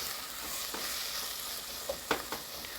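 Bell pepper and chopped herbs are stirred in a frying pan, making a soft, steady sizzle broken by a few quick scraping clicks near the end, quiet and close with no voices.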